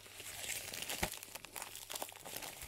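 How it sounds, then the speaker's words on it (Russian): A plastic parcel package from China is cut open and unwrapped, giving faint, close crinkling and tearing rustles with a few sharper crunches, no voices. "Погнали распечатывать."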